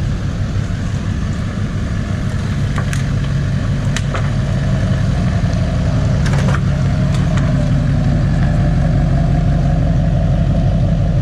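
A Duramax LBZ diesel pickup truck with a repaired exhaust idles steadily nearby, a constant low rumble with a few faint knocks and clicks over it throughout.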